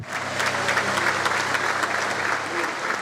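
Members of parliament clap in the chamber as MPs are sworn in to launch a new government, a sustained round of crowd applause with distinct individual claps and some low murmur beneath.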